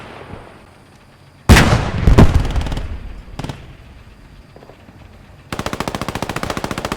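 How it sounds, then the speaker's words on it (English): Heavy gunfire from a Panther tank in the World War II video game Post Scriptum: a loud blast, a few further sharp reports, then a rapid machine-gun burst near the end, with no talking. "Panther is shooting on H646 northeast of Hooverville in the wood."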